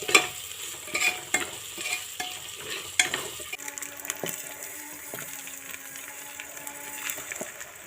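Raisins and cashews fry in a pan for a home-style pulao, giving a soft, steady sizzle broken by stirring scrapes and clinks, close and moderately quiet with no talking.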